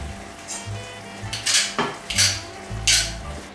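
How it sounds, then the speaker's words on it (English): Crushed fresh garlic goes into a pan of curry sauce with tomato paste over reduced heat: a soft sizzle and a few sharp metallic clinks and scrapes of a utensil against the pan, with no talking. "Now I will add garlic, crushed garlic."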